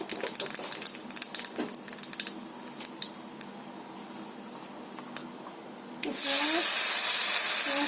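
Black cumin seeds dropped into hot oil in a kitchen pan, a sudden loud sizzling hiss bursting in near the end after quieter clinks and ticks, then holding steady and strong.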